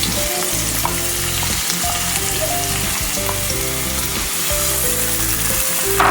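Finely chopped medium onion sizzles steadily in a hot pan for a vegetable pizza topping, a dense, even crackle that holds loud and close throughout.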